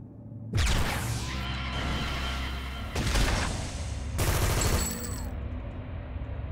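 Gunfire in the video game City of Villains, loud close bursts of rapid shots in three separate volleys, each ringing out briefly before fading.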